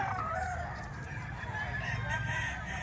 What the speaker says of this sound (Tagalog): Napakaraming manok ngayon dahil ang ganda ng panahon